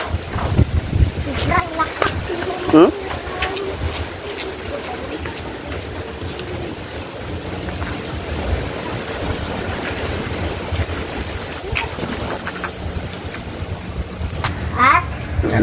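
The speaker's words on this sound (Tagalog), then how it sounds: "Yung hangin mga idol, oh." Strong wind buffets the microphone at the coast, a steady rushing roar with gusty surges throughout, and brief voices speak over it.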